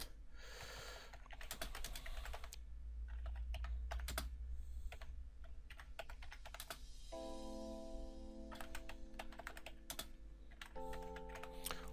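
Typing on a computer keyboard while writing a new message board post, with bursts of quiet key clicks and pauses over a low steady hum, plus some sustained tonal sounds toward the end.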